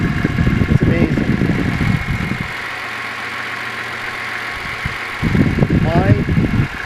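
A car engine treated with Cerma idles up close with a smooth, steady low hum, with no knock evident; people talk over it at the start and end, leaving the idle alone in the middle.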